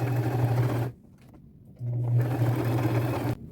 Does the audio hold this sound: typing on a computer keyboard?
no